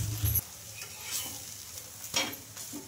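Chickpea dosa frying in oil on a pan, a quiet close sizzle with light scraping and turning sounds, including a brief louder clatter at the start, with no voices.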